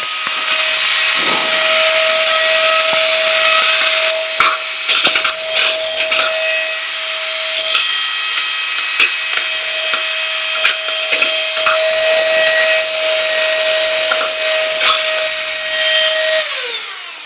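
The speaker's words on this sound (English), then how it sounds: "quick look at the Nexpow jump starter vacuum cleaner and the power bank" A Nexpow AKB-V600 handheld cordless vacuum, a combined jump starter and power bank, whines steadily at high pitch for the whole stretch, a sustained motor drone with a brief dip midway before spinning down at the end.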